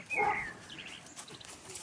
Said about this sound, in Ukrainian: Собачка велика. Гав-гав, каже